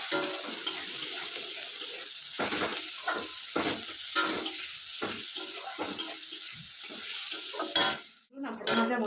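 Potatoes and spices such as cumin and coriander powder fry in a pan, a steady sizzle broken by repeated scraping stirs, close and moderately quiet, with a brief clatter near the end.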